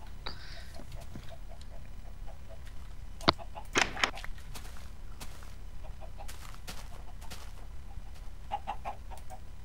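Chickens clucking in the Minecraft video game, soft short clucks repeating intermittently over a quiet background, with a few louder clicks and thumps from gameplay.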